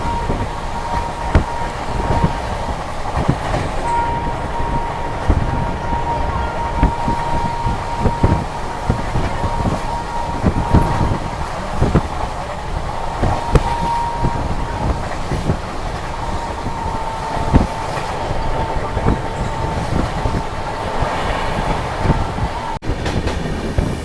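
A Howrah to New Delhi Duronto Express runs near Patna, heard from inside a sleeper class coach. The rolling rumble is loud and continuous, with rhythmic wheel clacks and a faint steady tone.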